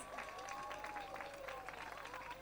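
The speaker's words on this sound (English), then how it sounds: "Can you give them a round of applause, please, guys?" Outdoor audience clapping for a carol choir at a windy evening carols event, a soft, continuous patter of many hands with a faint voice and tones running beneath.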